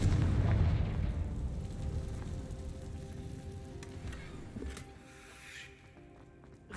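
A Confringo blasting spell explodes in Hogwarts Legacy, hitting hard at the start with a deep booming burst, then fading into a long, rumbling tail with scattered crackles.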